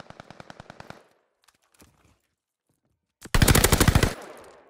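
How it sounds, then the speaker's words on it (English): Rapid automatic gunfire in a shooting video game comes in two bursts, a quick rattling string of shots followed after a pause by a louder, denser volley up close. "I could not see his head, but he was somehow still shooting me."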